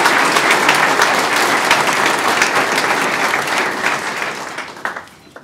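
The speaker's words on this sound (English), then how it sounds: "We applaud you." Loud, dense applause from the crowd of families and guests at a National Technical Honor Society ceremony, a continuous wash of many hands that holds steady and then thins out and fades over the last second.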